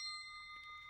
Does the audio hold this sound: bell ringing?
yes